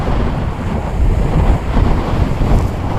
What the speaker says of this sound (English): that wind is just hitting me